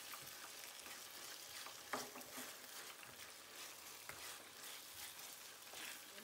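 Fish sauce with tomato paste stirred in the pan, a faint, steady sizzle with soft spoon scrapes and an occasional light tap.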